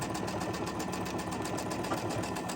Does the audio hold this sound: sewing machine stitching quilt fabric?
yes